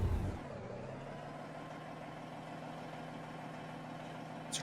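A classic Freightliner FLD truck engine idles steadily in American Truck Simulator, a low, even diesel rumble that holds constant throughout after a brief louder thump at the start, alone with no talk.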